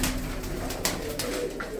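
Pigeons at a village loft in Salempur Masanda coo softly and steadily over a dense, close background hum, with a few brief flutters or clicks.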